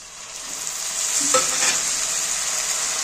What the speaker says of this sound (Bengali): দেখো পেঁয়াজটা ভাজা হয়ে গেছে, এবার আমি মশলাগুলো দিয়ে দেব।